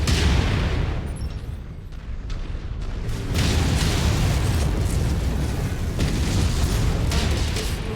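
Heavy missile blasts rumble through a MechWarrior 5 battle involving an Atlas AS7-RS mech, a dense, continuous roar of booming explosions that swells again after a brief dip, loud and close with no talk.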